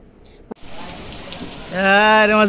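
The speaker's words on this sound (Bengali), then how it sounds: "বৃষ্টি দাঁড়াও" Steady rain falls outdoors after a brief knock, a broadband hiss that continues throughout, with a tonal hum rising over it near the end.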